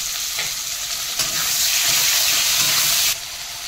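Tomatoes and potatoes with green chilli sizzling loudly in a pan, a constant bright hiss with a few stirring scrapes, the frying swelling midway then dropping back.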